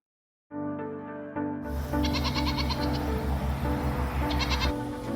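Nigerian Dwarf goats bleating at bedtime on a farm, a series of close, loud, wavering bleats that start after a short silence, with several animals calling over one another.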